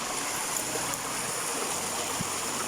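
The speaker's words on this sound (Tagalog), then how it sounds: "Ayan, malaking sapa." A large mountain stream rushes in a steady, broad roar, heard up close and unbroken, with no speech.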